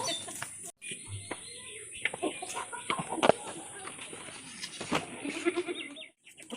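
A goat bleats in a farmyard setting, mixed with chicken clucks, scattered knocks and brief human voices at moderate distance.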